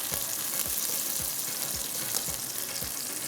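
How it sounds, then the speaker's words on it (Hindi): Onions browning in a pan for pulao: a continuous sizzle of frying with regular soft knocks or stirs about every half second underneath, steady and moderately quiet, with no talking. "लेकिन इसको आपने प्याज को ब्राउन करना है।"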